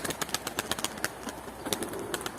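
Several young birds chirp in quick, sharp bursts over a steady low background hum, the calls scattered and fairly close.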